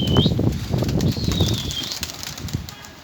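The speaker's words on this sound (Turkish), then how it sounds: "Bir havada gösterelim kuşlarımızı." Baska pigeons released into the air, their wings flapping in a close, fluttering clatter that gradually fades, with a whistling tone sliding above the wingbeats.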